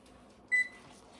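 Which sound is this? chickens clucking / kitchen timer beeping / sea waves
kitchen timer beeping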